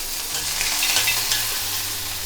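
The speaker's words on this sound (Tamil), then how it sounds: "எண்ணெய் காஞ்சிடுத்து. கடுகு, கொஞ்சம் உளுத்தம்பருப்பு சேர்த்துக்கலாம்." Mustard seeds, urad dal, green chili and curry leaves fry in hot oil, giving a steady, close, dense sizzle with light crackling and a few stirring scrapes throughout.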